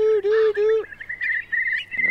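A Eurasian curlew in display flight gives its bubbling yodel-like call, starting with a few lower warbled notes and rising into a rippling high trill. It sounds fairly close and clear outdoors.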